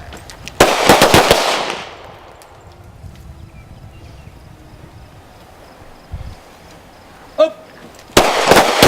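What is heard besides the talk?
gunshots from firearm being fired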